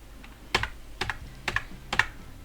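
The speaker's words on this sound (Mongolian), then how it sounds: "enter дарчаад дахиад нэг tab дарах юм бол" Enter and Tab keys are pressed on a computer keyboard while formatting in Word, giving four crisp, close clicks spaced about half a second apart against quiet room tone.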